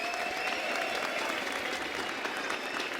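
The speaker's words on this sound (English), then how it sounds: "Huge round of applause to our runners-up Vodafone Giants!" Dense, steady audience applause at an AU:GO esports event, honouring runners-up Vodafone Giants, with a broad crowd roar and sustained clapping at an even level throughout.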